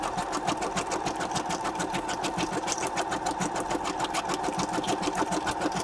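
A sewing machine stitches at a steady, rapid pace, its needle giving a fast, even chatter. The sound is close and continuous for the whole stretch.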